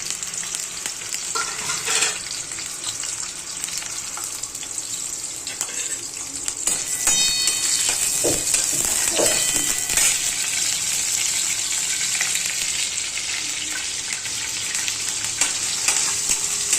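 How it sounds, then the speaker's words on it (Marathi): Dried Bombay duck fish fry in hot oil, a dense, loud, steady hiss with scattered pan scrapes and clinks, growing a little fuller partway through. "सुके बोंबील आता याच्यामध्ये तेलामध्ये फ्राय करायला टाकायचं"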